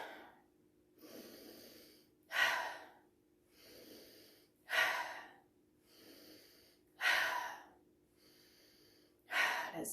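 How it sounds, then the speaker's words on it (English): Slow, regular breathing during a yoga stretch for the neck and shoulders, with soft inhales and four louder, breathy exhales through the mouth at even intervals, close and alone with no talk. "take an exhale through the mouth"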